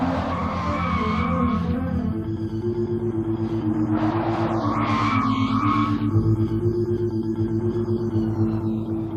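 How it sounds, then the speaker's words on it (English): A BMW 7 Series E32 without ABS brakes fully in a fast corner, tires squealing in long sliding howls over the car's engine drone, loud and sustained with rising and falling pitch. "Full braking in a fast corner. Without ABS, the car slides."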